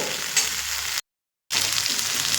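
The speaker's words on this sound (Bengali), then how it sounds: "চিংড়ে মাছটা দিয়েও আমি দু থেকে তিন মিনিট একটু কষিয়ে নেব" Shrimp sauté in spices in a pan with a steady hiss and frying crackle, cut by a brief silent gap, then sizzling again. No one speaks.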